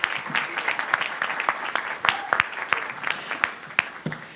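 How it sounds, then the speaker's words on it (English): Audience applause following a panel at a Chicano Studies symposium: a moderate crowd claps steadily and fairly close for several seconds. "let's have a round of applause for that first amazing panel"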